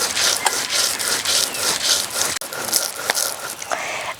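Soaked whole rice, wheat and chickpeas ground together in a grinder, giving a steady, loud, coarse rasping and churning that runs continuously with a brief break in the middle.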